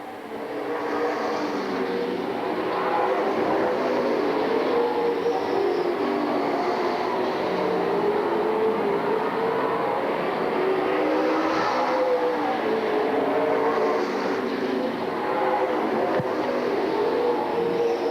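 Late-model stock cars racing at a 2002 Tri-State Challenge Series event, a continuous loud roar of engines that swells and fades slightly as the pack circulates the track, with no talk.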